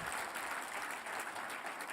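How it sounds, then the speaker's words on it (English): Audience applause at a conference speech: steady, dense clapping from a large crowd, fairly distant and even throughout. "yes, you can applaud."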